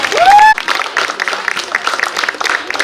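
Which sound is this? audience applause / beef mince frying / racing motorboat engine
audience applause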